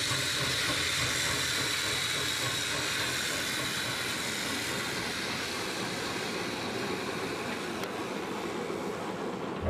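A narrow gauge steam train runs along a former state railway line near Abrud, Romania, with a steady loud hiss and rumble of the engine and rolling wagons throughout, close by and without talk.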